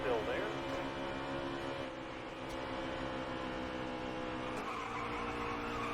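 Tires squeal and skid as a race car is bumped and spins out in the NASCAR Heat 3 racing game, with a steady engine roar underneath.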